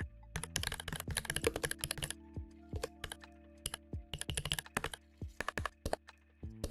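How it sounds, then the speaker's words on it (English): Rapid computer keyboard typing, close and crisp, with bursts of fast clacking keystrokes broken by short pauses and single taps. "That's the bug of the keyboard sound thing."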